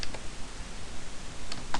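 Keystrokes on a computer keyboard while entering web page code in Dreamweaver: a few sparse, light clicks, with one near the start and a couple near the end, over a faint steady room hiss, with no talking.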